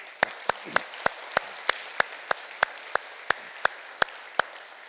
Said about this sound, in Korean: 박수 드렸습니다